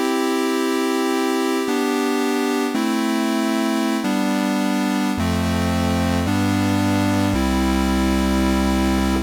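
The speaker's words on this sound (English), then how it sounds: "all the sounds you hear in this video are going to be from the MicroFreak that I'm controlling just via 5-pin MIDI" Arturia MicroFreak synthesizer triggered from a Keylab Essential MIDI controller, playing a sequence of sustained, buzzy held notes that step to new pitches every second or so and end on a deep, loud bass tone, with no voices.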